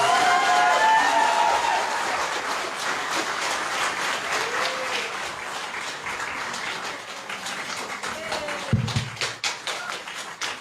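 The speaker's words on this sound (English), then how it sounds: "can we please give a round of applause for our contestants?" Audience applause for contestants at the Miss Pacific Islands pre-pageant interviews in Honiara, Solomon Islands, a long dense round of clapping that thins toward the end into scattered individual claps, with a few taps and thumps.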